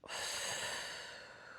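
A single long exhale during an adaptive physical activity exercise session, a close breathy rush of air that starts strongly and slowly fades over about a second and a half.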